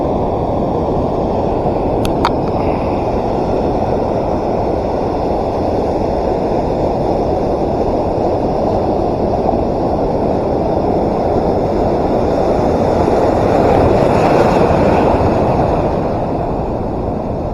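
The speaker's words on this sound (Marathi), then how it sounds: "समुद्र खूपच खवळलेला आहे" Rough, churning sea waves rumble as a constant low roar, rising and falling gently, with wind buffeting the microphone and no talking.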